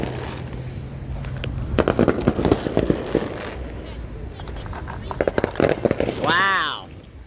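Fireworks at an outdoor show burst in clusters of sharp cracks and crackling pops at moderate distance, followed by a rising whistling whine, with people talking and exclaiming throughout.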